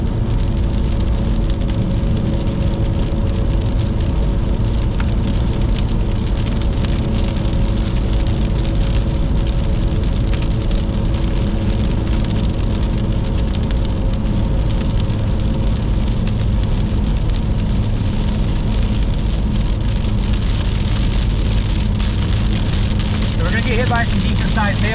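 Heavy rain drumming on a moving car driving through a storm chase in Iowa, a dense constant patter and road roar throughout with a steady hum beneath and no clear talk.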